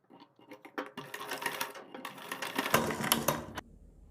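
Sewing machine stitching dori cords for a kurti neck design, a quick burst of rapid needle chatter that starts and stops, close and moderately loud, ending in a brief low hum.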